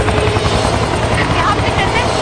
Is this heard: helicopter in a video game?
yes